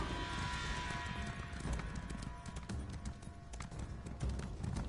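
Rapid hoofbeats of a galloping horse in The Elder Scrolls Online on PS4 pound steadily through a dense, noisy mix, with faint tonal game sounds in the background.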